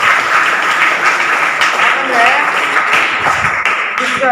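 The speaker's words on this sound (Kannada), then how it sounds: "ನೀವು ಚಪ್ಪಾಳೆ ತಡಬೇಕು" An audience at a student event gives loud, sustained applause, with voices and a few shouts mixed into the steady clapping.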